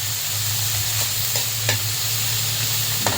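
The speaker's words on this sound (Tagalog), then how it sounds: "haluin lang natin para hindi masunog" Tomatoes and other ingredients stirred in a hot frying pan, a steady close sizzle with occasional soft scrapes of the spoon, no voices.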